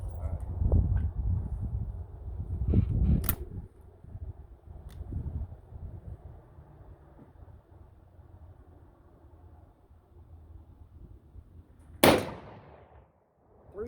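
Two sharp rifle reports from .223 or 6.5 Creedmoor store-bought ammo crack outdoors, one early and one loud late, each with a trailing echo over steady background rumble.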